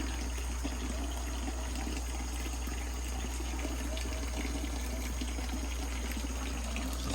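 Water flows steadily into a crawfish pond tank setup, a constant hissing, gushing rush that stays even and fairly loud throughout with no voices.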